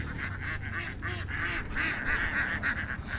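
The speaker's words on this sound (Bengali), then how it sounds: "হাঁসগুলো ডাকতে ডাকতে এখান দিয়ে চড়ছে পার দিয়ে" Ducks graze along the bank of a dam reservoir, calling with repeated nasal honks and quacks close by over low outdoor background noise.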